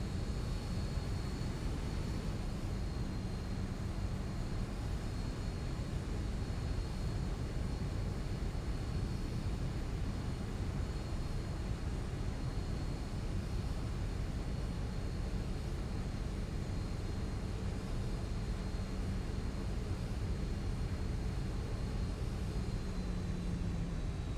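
Steady jet engine hum of a Zibo 737-800 airliner taxiing at Fort Lauderdale in the X-Plane 12 flight simulator, a continuous even rumble with a faint high whine and no pauses throughout.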